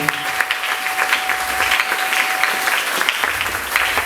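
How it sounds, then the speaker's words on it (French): A church congregation claps and cheers steadily throughout, a dense wash of applause with a brief sustained tone in the background. "Acclamez pour les Seigneurs."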